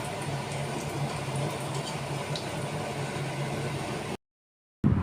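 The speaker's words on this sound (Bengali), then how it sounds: "এবার আমি পুর ভরা কাঁচকলার বড়াগুলো লাল লাল করে ভেজে নেব" Raw plantain fritters stuffed with filling deep-frying in hot oil, a steady dense hiss and bubbling that runs unbroken, then cuts out briefly near the end before resuming.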